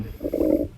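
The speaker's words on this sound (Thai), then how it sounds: "มันท้องร้องหมดแล้วเนี่ย" A hungry stomach growling, one low, brief gurgling rumble that swells and fades within a second, close and fairly soft.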